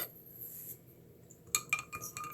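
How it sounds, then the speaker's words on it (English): A metal spoon stirs salt into water in a glass, with a soft scrape followed by a quick cluster of bright clinks against the glass, close and fairly quiet. "And then we're going to mix it all up."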